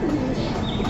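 A domestic pigeon kept at home gives a brief, soft cooing call, close by, over a steady background hum.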